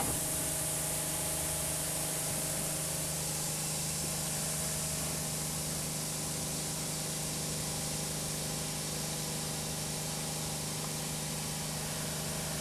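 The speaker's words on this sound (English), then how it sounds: "But we'll look at their spray pattern." Crop sprayer nozzles spray during a night spraying trial, giving a continuous even hiss over a low, steady engine hum, with no voices.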